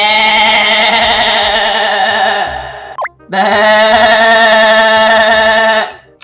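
A human voice imitates a female goat's bleat in two long, loud, wavering cries, separated by a short break, close to the listener, while playing Roblox.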